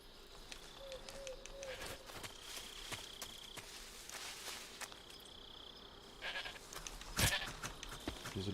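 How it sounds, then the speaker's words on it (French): A goat bleats faintly in the stealth game Metal Gear Solid 3: Snake Eater, a few short wavering calls over a quiet jungle ambience with insects and soft footsteps. "Et ah, il y a une chèvre."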